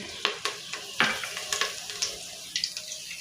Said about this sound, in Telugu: ఆయిల్ పోసుకోవాలి ముందు కరివేపాకు వేసుకోవాలి